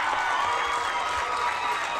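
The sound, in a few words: crowd cheering at under 11s rugby grand final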